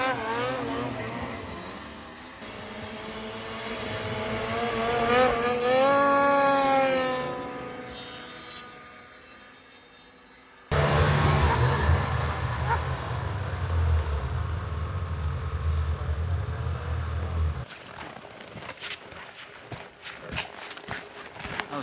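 A snowmobile running down a backcountry trail through forest: the engine climbs in pitch as it accelerates, cuts off briefly, then returns as a loud, rough, steady roar with crunching snow and wind noise.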